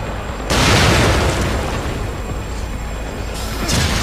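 Grenade explosion in The Evil Within: a loud, deep boom that bursts in suddenly, then a long rumbling roar that stays heavy and only slowly fades, with a second swell near the end.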